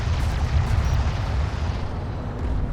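Heavy combat in Homeworld: Deserts of Kharak, armored vehicles under fire: a dense, continuous roar of explosions and gunfire with deep rumbling booms, steady and loud throughout.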